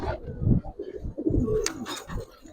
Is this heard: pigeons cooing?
yes